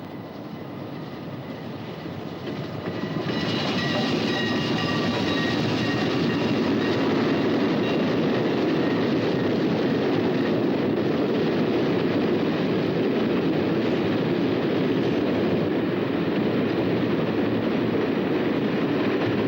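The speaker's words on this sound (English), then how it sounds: "And then the train came in." A train rolls in, its steady rumble and rattle rising over the first few seconds, then holding loud and continuous with a clickety-clack of wheels.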